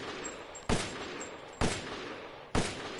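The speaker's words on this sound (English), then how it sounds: "The Stake is also pretty fast firing." In the video game Resident Evil Village, the Stake weapon fires three heavy, punchy shots spaced about a second apart over a low, steady background bed, with no voices.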